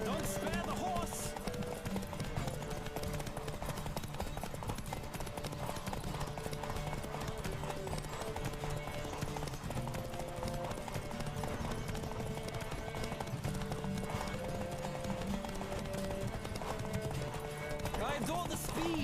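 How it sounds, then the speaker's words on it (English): A horse gallops through a race in The Witcher video game, its fast rhythmic hoofbeats continuing loud and unbroken throughout, with voices speaking over the gallop. "Don't spare the horse!"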